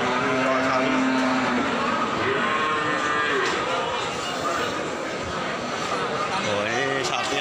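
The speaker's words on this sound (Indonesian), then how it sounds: "Kondisi dari sapi-sapi yang hamil di Pasar Sapi Wirosari." Pregnant Limousin cows lowing at the Wirosari cattle market in Grobogan, loud and close, drawn-out moos layered over a busy crowd murmur and people talking, with engine noise in the background.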